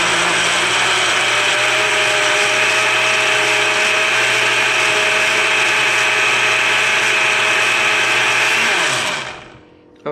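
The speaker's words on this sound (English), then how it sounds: "I'm going to puree all these ingredients in the blender." A kitchen blender purees an onion mix of ingredients, a loud steady whir running unbroken for about nine seconds before the motor cuts off and spins down.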